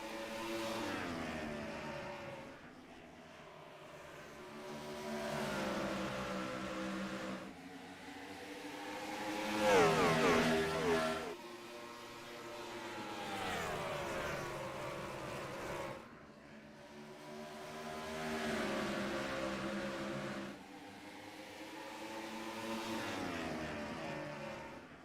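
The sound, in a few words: ARCA race cars at Richmond Raceway in iRacing video game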